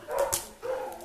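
A dog gives two short barks close by, the first sharper and the second more drawn out, with no talking over them.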